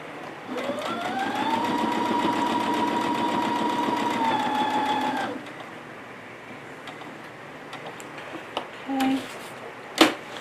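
A sewing machine runs a steady, loud, even stitching hum for several seconds across tote bag fabric at its longest stitch length, then stops, followed by a few faint clicks and knocks.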